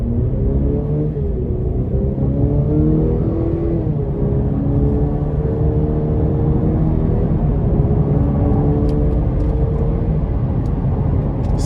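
A 2025 Cadillac CT5 Sport with the 2.0-liter turbo four pulls hard in sport mode. Its engine drone is loud and steady, and its pitch climbs through the gears with brief dips at the shifts. No one speaks.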